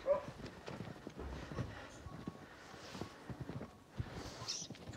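Hooves clop unevenly on the ground as draft horses walk nearby in the Carpathians, with a few louder thumps and some faint background sounds.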